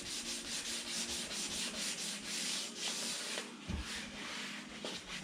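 Sanding scratches on a car bumper by hand with 400 grit sandpaper, a continuous close rasping scrub with rhythmic back-and-forth strokes.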